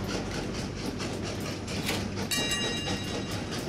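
A train runs in the Train Valley railway video game, a steady low rumble of rolling rail noise with a faint metallic ringing tone near the end, and no talk over it.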